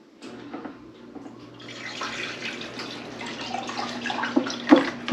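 Cooking liquid from a brisket made on a pellet smoker is poured out, giving a soft, steady trickle and splash that builds gradually, with a few brighter drips near the end and no talking.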